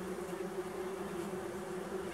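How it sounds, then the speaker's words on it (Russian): Wasps buzzing around a crowded nest in a village yard, a steady, even drone of many insects humming together, continuous and fairly faint, with no voices. "Все здесь осы."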